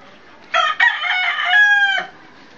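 A single loud rooster crow rings out close by, a drawn-out cock-a-doodle-doo lasting about a second and a half against quiet surroundings.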